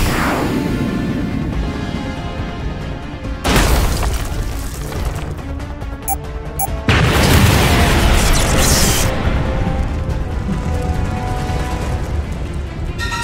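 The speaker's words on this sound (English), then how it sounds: "Get ready to drop the bomb." Loud booming blasts of a bomb explosion in an animated sci-fi series, with a heavy burst near three and a half seconds and another near seven, each followed by sustained rumbling and crashing debris.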